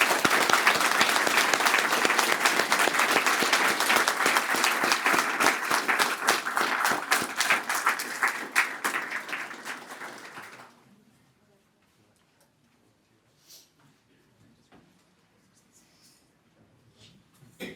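A large crowd at a medal ceremony applauds steadily for about ten seconds, then the clapping fades out abruptly into near silence with a few faint scattered noises.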